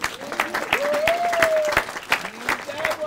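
Wedding guests applaud after the ring exchange, a lively spread of clapping with a few sharp louder claps near the front and a voice calling out briefly over it.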